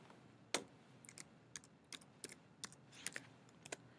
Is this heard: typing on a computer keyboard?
yes